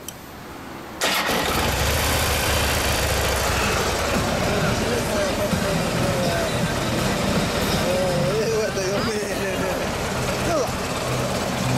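A 2016 Harley-Davidson Road Glide FLTRX with a 103 engine starts after a brief quiet moment and settles into a loud, steady rumbling idle close by, with people talking over it throughout.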